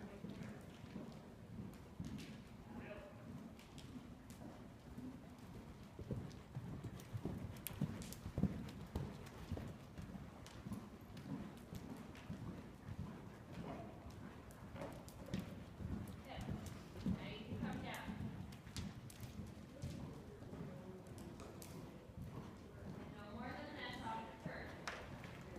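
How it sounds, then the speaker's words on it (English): A ridden horse cantering, hooves drumming in a steady three-beat rhythm throughout, with someone speaking over the sound. "Then we went for another canter to find our pace."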